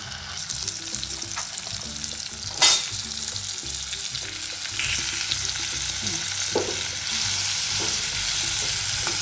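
Tomato masala frying in a pan for a tinda curry, a strong continuous sizzle with intermittent stirring scrapes and a sharp clatter near the start, no talking.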